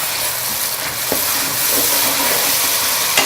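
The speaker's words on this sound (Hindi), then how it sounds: "अब हम इसके अंदर दही डाल देंगे और 3 से 4 मिनट के लिए इसको कुक करेंगे। मिक्स करेंगे।" Tomato masala with yogurt stirred in sizzles and fries steadily in a pan, a loud continuous hiss with a few soft spoon scrapes and knocks, no voices.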